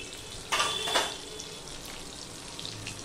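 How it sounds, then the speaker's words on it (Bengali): Water poured into a hot pan of frying tomatoes, green chili, salt and chili powder for a hilsa fish curry, a sharp burst of sizzling that flares and then settles into a softer steady fry. "একটু জল দিয়ে দিলাম।"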